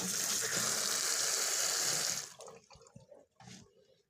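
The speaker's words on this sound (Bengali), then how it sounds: "এখন কেটে ধুয়ে পরিষ্কার করে নিচ্ছি ভালো মতন ধুতে হবে কচলে কচলে" Leafy greens are washed and squeezed by hand in water: loud, continuous splashing for two seconds gives way to quieter sloshes, drips and handling sounds nearby.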